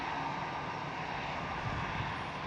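A Cathay Pacific Airbus A350 taxiing at Amsterdam Schiphol gives a steady, continuous broadband engine roar, loud and unbroken throughout with no voices.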